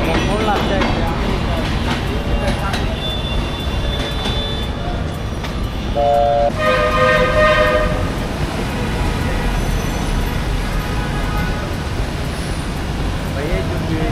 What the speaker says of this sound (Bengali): ট্রেন এখনো যায়নি, মানুষ রিস্ক নিয়ে ট্রেনে দিচ্ছে